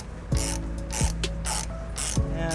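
An 18mm socket on a ratchet tightens a trailer hitch bolt on a 2012 Toyota RAV4, giving three bursts of rapid metallic clicking with brief pauses between them, close and fairly loud, with no talking.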